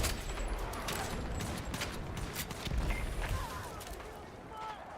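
Gunfire in the shooter Battlefield 6: fairly faint, rapid bursts of shots and distant crackling battle noise run throughout, with voices talking at times.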